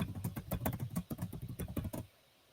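Rapid typing of a password on a computer keyboard, a quick uneven flurry of close, crisp key taps lasting about two seconds before stopping abruptly into near silence.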